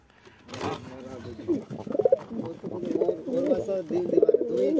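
Pigeons of an old-generation, top-quality breeding stock coo repeatedly in a loft, their soft, throaty calls close and layered over one another with a steady rhythm, and indistinct voices mixed in.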